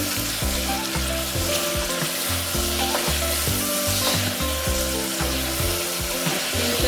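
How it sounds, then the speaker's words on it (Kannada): Tomatoes fry in oil in a pan for a Karnataka-style vangi bath, a dense continuous sizzle with a low repeating scraping pattern as the mixture is stirred, loud and close, no voices. "ಟೊಮೆಟೊ ಎಣ್ಣೆ ಚೆನ್ನಾಗಿ ಫ್ರೈ ಆಗೋವರೆಗೂ ಬೇಯಿಸಿ ಇದನ್ನು ಮಿಕ್ಸ್ ಮಾಡ್ಕೊಳ್ಳಿ"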